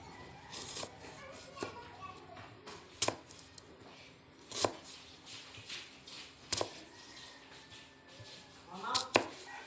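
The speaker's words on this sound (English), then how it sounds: "Cut the apple into 2 parts. Then slice horizontally." A knife cuts an apple into thin horizontal slices, producing sharp, crisp chopping clicks that repeat irregularly alongside quiet background voices.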